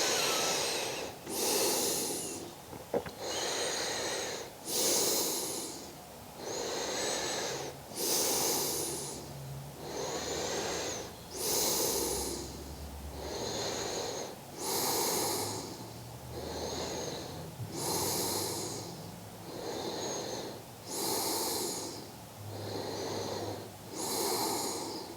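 Slow, deep breaths during a yoga forward fold, with about a dozen audible inhale and exhale cycles recorded close, each one a soft breathy rush at an even, unhurried rhythm, and no talk.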